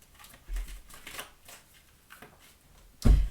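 Tarot cards being shuffled by hand: soft papery riffles and taps in a few short bursts, fairly close and quiet, ending with a sharper thud as the deck is squared.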